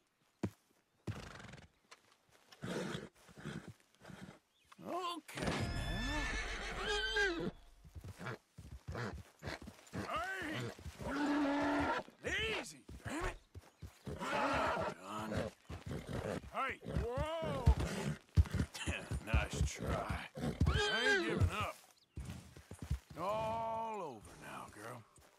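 A Red Chestnut Arabian horse in Red Dead Redemption 2 whinnies and snorts repeatedly near Lake Owanjila, mixed with clip-clopping hooves and in-game ambience while a person talks over parts of it.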